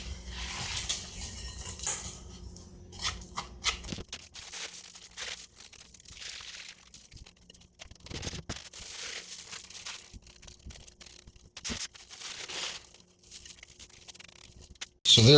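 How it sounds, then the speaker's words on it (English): A silicone dehydrator sheet is bent, folded and crinkled to free dried onion bits, giving close, fairly quiet rustling and crackling with small ticks and rattles of the pieces breaking loose, no talking. "I just kind of give everything a bend and a fold and a bit of a crinkle, and it'll all start breaking away from that"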